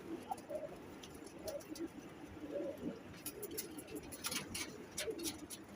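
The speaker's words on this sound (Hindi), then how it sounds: "ये बहुत अच्छे कबूतर हैं" Soft pigeon coos repeat in low, throaty phrases, with a few wing flutters and light rustling nearby; fairly quiet and unhurried.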